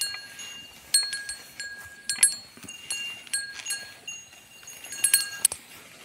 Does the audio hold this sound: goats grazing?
yes